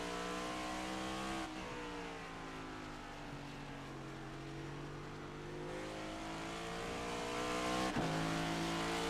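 A race car engine in iRacing at Watkins Glen drones and revs through shifting pitches, rising and dropping with downshifts, loud and continuous with no speech.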